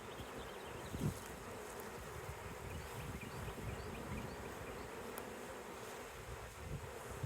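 A captured honey bee swarm buzzes steadily around a hive box fitted with a queen excluder, a dense, continuous drone of many bees heard alone at moderate distance.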